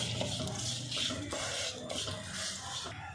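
Masala with dried chillies for a Kerala-style coconut chicken curry is stirred in a pan, making repeated close scraping strokes with a soft sizzle underneath.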